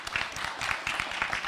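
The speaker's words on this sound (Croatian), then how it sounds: "hoćemo jedan aplauz za nastavnike" Audience applause for teachers at a school conference, steady dense clapping from a crowd throughout the short moment.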